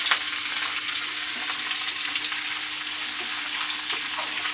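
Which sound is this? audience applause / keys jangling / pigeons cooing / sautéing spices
sautéing spices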